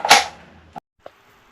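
A licensed Kalashnikov AK-47 airsoft gun fires once through a chronograph: one sharp crack that fades quickly, followed by two small clicks.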